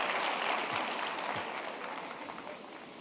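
An audience claps at a question-and-answer session with Prime Minister Modi: dense, steady applause from a large crowd that tapers slightly toward the end.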